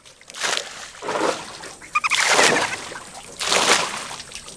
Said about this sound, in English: the background sound is him throwing out the water